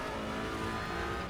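A Volvo TCR race car in a sim racing game at Mantorp Park, its engine droning at a steady rough pitch under load, sounding strained and a few cylinders short.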